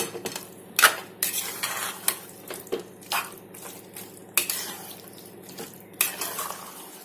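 A spoon scrapes and knocks against a pot while mango chicken curry with raw mango is stirred, a series of irregular clinks and scrapes over a quiet background hum.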